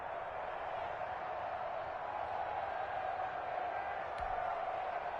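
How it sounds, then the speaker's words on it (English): Stadium crowd in the football video game Madden 21, a continuous distant roar of cheering that holds steady with no sharp peaks. "The crowd getting into it as we come up on a big 3rd down."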